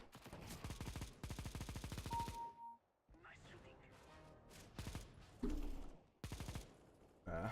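A Negev machine gun firing in Counter-Strike: Global Offensive, a rapid, loud stream of shots in a long burst, then broken, scattered firing, with a voice talking over parts of it.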